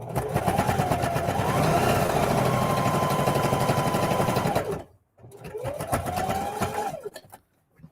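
A sewing machine stitches a quarter-inch seam along the edge of a lunch tote bag. It gives a loud, close, steady motor whir with rapid needle chatter, stops briefly, then runs again in a shorter burst.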